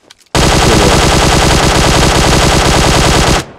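Rapid automatic gunfire from the PUBG Mobile video game bursts in after a short pause and continues as one loud, dense, close volley for about three seconds before cutting off, with no talking.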